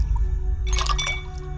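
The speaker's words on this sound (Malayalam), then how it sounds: "അതിലേക്കൊരു ഐസ് ക്യൂബ് ഇടുക," A single ice cube dropped into a glass of orange juice drink, a brief bright clink and splash near the middle, close, over quiet background hum.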